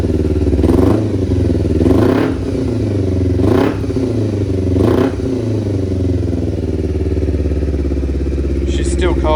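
A cold Kawasaki Ninja 250 with a fake Yoshimura R77 slip-on and its silencer removed, blipping the throttle four times in quick succession over a rough, loud, open-pipe idle.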